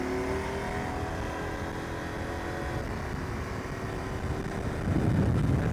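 Adventure motorcycle, either a Ducati DesertX or a KTM 890 Adventure R, accelerating in fifth gear with a steady engine drone and rising tones, swelling louder near the end over wind noise.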